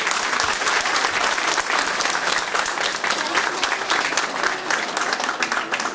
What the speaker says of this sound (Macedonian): еден аплауз и за нив